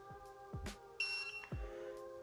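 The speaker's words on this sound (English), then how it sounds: "we're going to hold down the set button until it beeps once" Short electronic beeps from a tire pressure monitoring system (TPMS) unit sound close by, including one sustained high tone, with light handling clicks and thumps around them.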